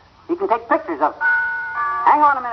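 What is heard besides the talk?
doorbell ringing, radio show sound effect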